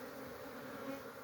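Honeybees fly out of their hives at an apiary, a continuous close buzzing hum from many insects with no voices over it.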